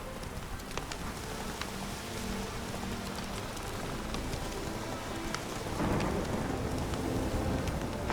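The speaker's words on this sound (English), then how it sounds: "No use doing any work in this rain." Steady rain hissing and pattering on surfaces in the video game The Witcher 3, continuous and fairly close, with a faint low rumble and a slight swell toward the end.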